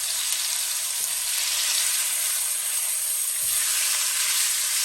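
Corned beef stir frying in a pot, a loud, continuous sizzle and hiss throughout with a faint scrape of stirring.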